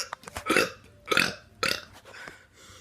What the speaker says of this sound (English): I'm gonna be doing a burp video